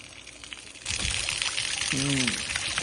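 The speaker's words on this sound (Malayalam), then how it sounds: "തുമ്പിക്കയിൽ നിന്ന് വെള്ളം വീഴുന്നത് നല്ല തണുപ്പുള്ള വെള്ളമാണ്" Cold water pouring from the trunk of an elephant sculpture in the hills, a steady splashing rush that swells after a moment and carries on close by, with a faint voice briefly underneath.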